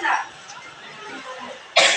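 A schoolteacher in a classroom gives a couple of short, sharp coughs at the start and end, with faint murmuring between.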